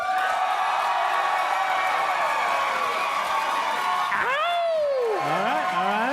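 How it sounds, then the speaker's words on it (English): A convention panel audience at Star Wars Celebration 6 fills the hall with sustained applause and cheering, a dense steady roar, then whoops and excited voices rise above it near the end. "let's find out who out there, by applause, is voting for"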